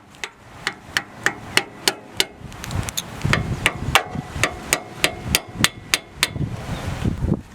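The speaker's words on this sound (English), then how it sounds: "I used a screwdriver and a hammer and just kind of worked my way around it initially." Steady metallic hammer strikes on a screwdriver prying off a tractor PTO seal cover, about two per second, ringing out sharply and close by with no talking.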